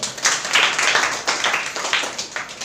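A church congregation claps together in a sustained, fairly loud burst of many hands, steady and dense from start to finish.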